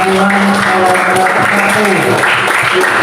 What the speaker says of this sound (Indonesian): beri tepuk tangan untuk perwakilan kelompok